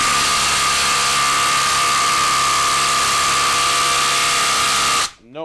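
A DeWalt impact driver hammers continuously for about five seconds, a loud, steady buzzing whine with a strong tonal hum, before cutting off abruptly.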